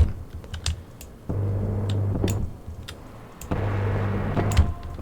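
Keys clatter on a faulty computer keyboard in irregular bursts of clicks, alternating with stretches where a low steady hum rises underneath, close and moderately loud.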